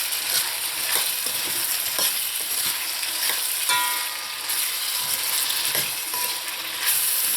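Potatoes fry in a pot over medium-high heat while being stirred and turned, with recurring scraping strokes and clicks over a loud, steady sizzle and no talking.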